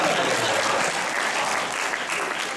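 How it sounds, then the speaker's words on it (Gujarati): An audience at an evening religious discourse in New Jersey breaks into sustained applause. Loud, dense clapping fills the whole stretch without a break. "તાળી તો આપો તમારા."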